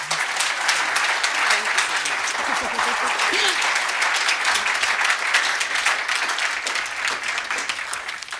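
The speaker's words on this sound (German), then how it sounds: "Applaus für Monika." A church audience at a Christmas carol service applauds for Monika, with thick sustained clapping from many hands close by and a few faint voices mixed in.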